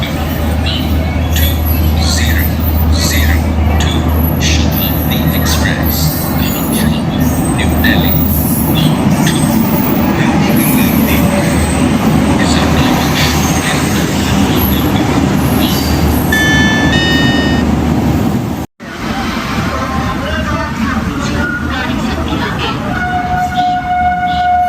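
The Bhopal Shatabdi Express rolls into a station with a loud, continuous rumble of wheels and carriages, high squeals rising near the end and a horn-like tone, while station noise carries on around it.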